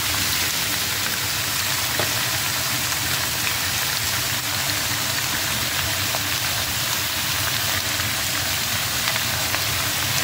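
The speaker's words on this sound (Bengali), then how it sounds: "আমার পরিমাণ মতো নুন হলুদ দিয়ে এবার একটু সবজিটা ভালো করে ভেজে নিই" Mixed vegetables seasoned with salt and turmeric fry in a pan, giving a steady, dense sizzle that holds at an even loudness throughout, with no voices over it.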